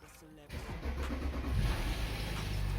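A car engine cranks and catches at about half a second, then settles into a steady, close idle, with a voice talking over it.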